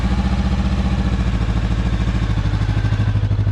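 A motorcycle engine runs close by, steady and loud, with a low rhythmic chug and a mechanical clatter that firms up toward the end, with no talk over it.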